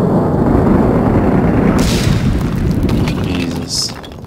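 Heavy, booming mortar blasts in the war shooter Six Days in Fallujah: a loud, continuous low rumble of explosions and debris, with a sharp burst near the end, all close and dense.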